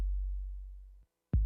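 A deep trap-beat bass boom around 50 hertz, a long sustained low drone that fades out, a brief gap, then a fresh booming hit at the end, with no voices.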